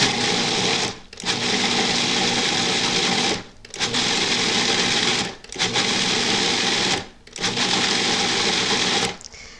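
A Cuisinart food processor pulses black bean dip with carrots, four loud whirring bursts of about two seconds each separated by brief pauses, close and alone.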